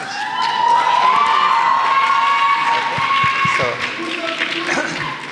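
A conference audience at a medical students' event screams and cheers, a sustained loud wash of crowd shouting and whooping with some applause and clapping, heard from within the hall.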